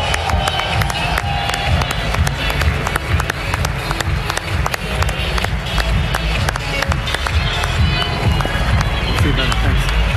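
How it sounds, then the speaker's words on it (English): A crowd applauds and cheers for a marketer taking the stage at a live ecommerce event, loud, dense rapid clapping that continues at full strength for the whole stretch. "Please give a big round of applause for my good friend and incredible marketer"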